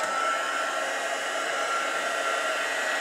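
A craft heat tool blows steadily to dry distress ink on a paper tag, a constant close, loud whooshing hum with no talking.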